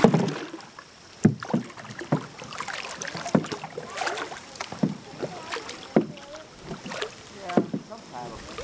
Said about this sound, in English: Paddle on the other side.